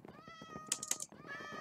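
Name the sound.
cats meowing in Minecraft video game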